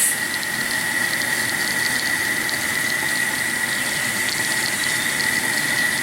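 LNER A4 steam locomotive injector running with its water and steam valves opened: a steady, loud hissing rush of steam and water that holds constant throughout, with no talk.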